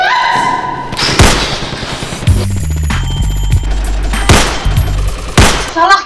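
Toy guns fire in an arcade shooting game at an entertainment center, giving rapid bursts of electronic gunfire and heavy thuds over looping game music and arcade noise.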